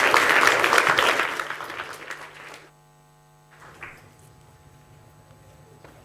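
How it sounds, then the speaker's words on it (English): Audience applause at an event with electronic artists and VJs, loud broadband clapping for about 2.5 seconds that cuts off into steady mains hum, with a brief faint burst of sound afterward. "So give them a round of applause and let's get started."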